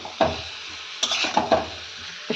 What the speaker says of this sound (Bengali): ভালো করে এটাকে কষাবো। যেরকম মাংস কষাই সেরকমভাবেই কষাবো, কিন্তু মাংস না এঁচোড়।